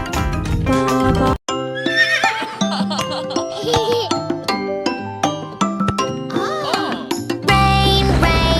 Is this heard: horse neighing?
yes